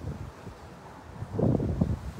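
Wind gusts across the grounds of an equestrian centre on a cold sunny day, a soft rushing buffet against the microphone that swells louder toward the end.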